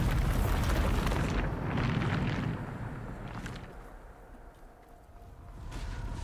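The Bombarda blasting spell in the Hogwarts Legacy video game goes off as a loud, deep booming explosion that rumbles and slowly fades over several seconds, with a fresh burst rising again at the end.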